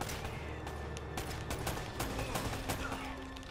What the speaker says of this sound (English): I'm getting shot at from a lot of directions